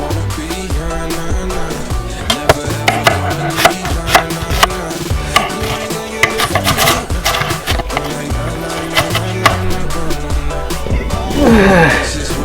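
An onion is chopped on a cutting board for slow-cooker BBQ chicken. Rapid, loud knife strokes hit the board in an uneven rhythm over busy background music.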